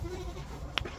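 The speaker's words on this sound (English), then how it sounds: "Goats coming through. Come on, goats." A single short goat bleat rises briefly over a low, steady background rumble, fairly close and alone with no talking.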